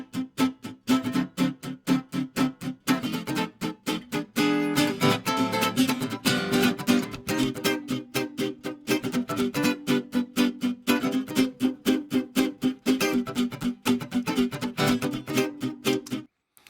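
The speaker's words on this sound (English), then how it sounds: "So we have a guitar on the left and a guitar on the right" Two distorted electric guitars chug through a driving rhythmic riff, dense and loud, with rapid palm-muted strokes throughout.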